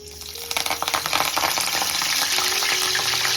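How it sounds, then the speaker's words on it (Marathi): Curry leaves hit hot oil in a pan and erupt into loud crackling sizzle, sharp pops at first settling into a steady close frying hiss. "सगळं तेल गरम झाले आता आपण कढीपत्ता टाकून घेऊ"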